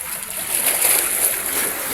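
Rough sea water splashing and sloshing close by, a continuous hissing wash of waves rising slightly in the middle.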